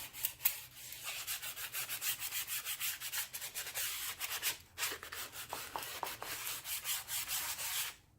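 The back of a wooden cross frame trimmed in burlap is sanded by hand, making steady, close, rhythmic rasping strokes with a brief pause midway and no voices.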